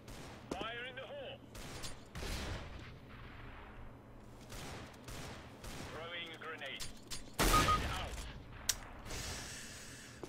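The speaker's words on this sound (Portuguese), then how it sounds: "Tiro já à sorte apenas, ver se furava alguém ou assim" Scattered random gunfire in the video game CS:GO, a few sharp bursts separated by quieter mechanical clicks and reload sounds, with a voice talking over parts of the match.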